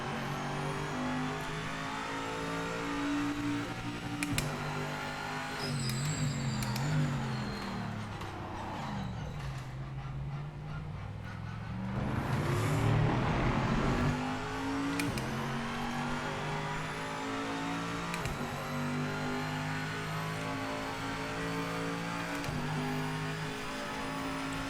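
GT4 race car in Project Motor Racing on a lap, its engine droning steadily and close with rising and falling revs through gear changes, one sharp surge and dip midway, no voices.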